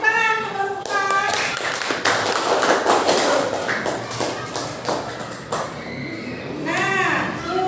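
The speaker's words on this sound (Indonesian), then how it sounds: "Tepuk tangan untuk kelompok 4" Classroom applause for a student group during a math lesson, a steady patter of many hands clapping from about one to six seconds, with children's voices and a teacher talking over it at the start and end.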